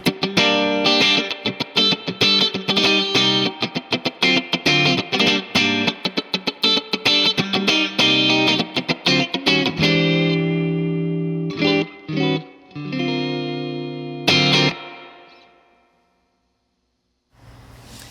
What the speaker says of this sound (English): Spring reverb.